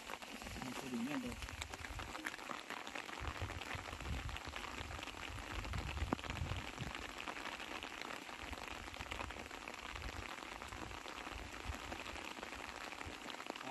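Rain falls steadily on a cold high mountain slope where fern shoots are being gathered, a continuous close hiss of drops lasting throughout, with faint voices now and then underneath.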